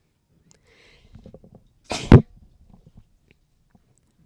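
A single loud, sharp human sneeze bursts out near the microphone, preceded by a few quiet breaths and small mouth sounds in an otherwise quiet room.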